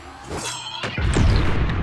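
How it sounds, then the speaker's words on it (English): Rocket launch in the video game Hyper Light Breaker: a sharp whooshing ignition followed by a heavy booming blast with a rumbling tail, all in under two seconds. "Sounds great when he fires the rocket"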